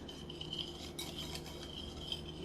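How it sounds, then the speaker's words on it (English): Whisk stirring a biscuit mixture in a bowl, a soft continuous scraping rub with faint light clinks, close but quiet. "So now we're just going to whisk that in"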